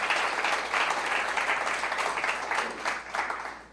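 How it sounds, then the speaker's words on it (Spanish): A church congregation applauds during a Sunday morning sermon, a steady round of many hands clapping that holds at an even level with faint pulses and eases slightly near the end. "Le damos un aplauso a Jesús en esta mañana"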